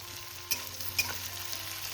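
Garlic fries in a pan for a spicy potato and capsicum curry, giving a soft, steady sizzle with a couple of brief stirring clicks, fairly quiet and heard without talk.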